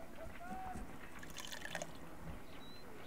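Water is poured in the Sherlock Holmes Crimes and Punishments video game, a faint trickling and dripping with a few small splashes, quiet against a low background hum.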